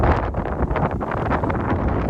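Strong wind buffets the microphone on a high hilltop near wind turbines along the Camino Francés between Pamplona and Muruzabal. The roar is loud, constant and gusting, with no voices.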